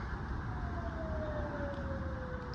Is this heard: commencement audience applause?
no